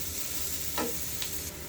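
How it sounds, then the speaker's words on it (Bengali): Chopped onions frying in a pan for a mustard hilsa curry, a steady soft sizzle with a couple of quick stirring scrapes of a spoon, no talking. "এবার নেড়ে চেড়ে ভালোভাবে ব্রাউন কালারের করে ভেজে নেব পেঁয়াজ"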